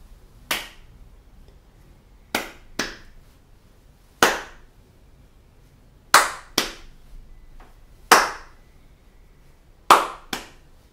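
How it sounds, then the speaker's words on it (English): Sharp, loud hand claps ring out alone in a slow rhythm, some single and some in quick pairs of two per beat, with silence between each hit. "So that's two claps for this beat."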